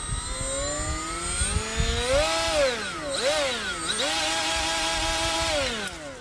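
A Milwaukee M12 cordless right angle die grinder whines at a high pitch, its motor pitch rising and dipping as the variable speed trigger is worked, close and loud with no talking.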